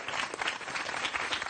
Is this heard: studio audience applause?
yes